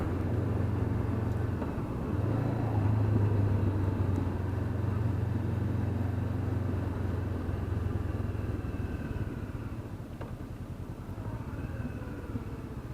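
A Honda motorcycle with a stock exhaust runs steadily close by, a low even engine hum with a faint whistle, rising slightly early on and then easing toward the end, with no one speaking.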